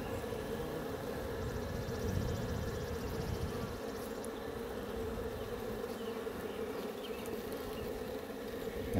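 Honeybees buzz in a dense, continuous drone over a frame pulled from a spring hive with drone brood, loud and close, without a break.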